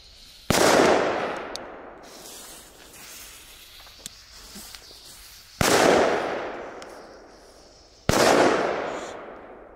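Belgian bandietjes firecrackers go off in three sharp, very loud bangs spaced a few seconds apart, each followed by a long fading rumble and hiss outdoors.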